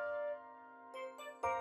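A quiz correct-answer ding-dong chime rings out clearly alone, with sustained bell-like tones and a second bright strike near the end.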